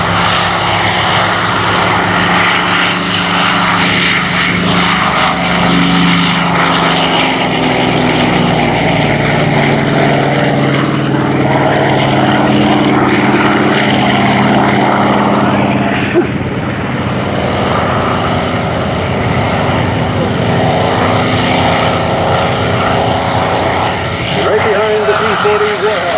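A Corsair warplane's R2800 radial engine roars steadily nearby for the whole stretch at a World War II airshow, its deep droning growl swelling and fading slightly as it passes, with no talk audible.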